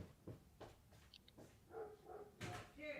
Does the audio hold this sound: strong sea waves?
no